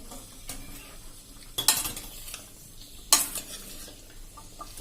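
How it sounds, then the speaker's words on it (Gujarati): Grated carrots sauté in ghee with milk in a pressure cooker for carrot halwa, giving a low sizzle under two sharp, loud scrapes of a spoon against the metal pot plus a few lighter clinks. "હવે એને આપણે 2 થી 3 મિનિટ આપણે એને સાંતળશું એટલે એકદમ સરસ ઘીમાં સંતળાઈ જાય"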